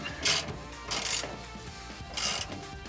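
A 9/16 wrench ratchets on a bolt while swapping a landing gear jack on a Lippert Ground Control 3.0 RV leveling system, three bursts of quick metallic clicking at moderate, close range.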